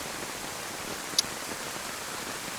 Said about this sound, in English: Wow, it is hosing it with rain.